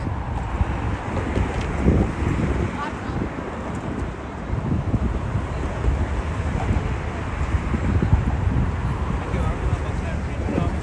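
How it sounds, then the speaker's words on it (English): Steady wind by the water in New York rumbles and gusts against the microphone outdoors, with faint traffic and water-vehicle noise in the background and murmured voices now and then. "it's always windy by the water there."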